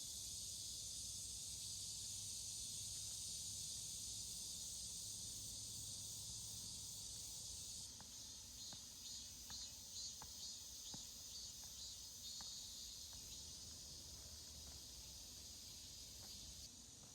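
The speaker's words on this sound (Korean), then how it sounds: "매미 소리도 좋고요." Cicadas singing in a forest on a walking trail, a steady high shrill drone that continues throughout, with some faint clicks and low background rumble, and no talking.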